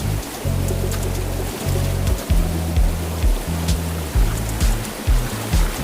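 Rushing current of the Dhansiri river near the Bhutan border, a steady loud roar of fast water with heavy low rumbling surges pulsing throughout, no voices.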